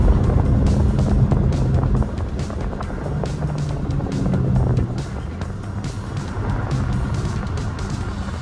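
Renault Scénic driving hard through a corner on a race circuit, a loud continuous engine roar with wind buffeting and rumble, shifting in pitch as it works through the turn.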